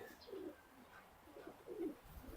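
Racing pigeons coo softly in a loft, low and murmuring, with a few calls rising and falling over faint background.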